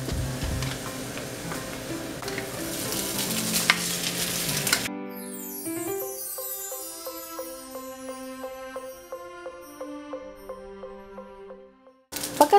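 Rice tossed into golden-browned garlic in a pan for garlic fried rice, a busy sizzle with scraping stirs for the first five seconds before the sound gives way to tonal music.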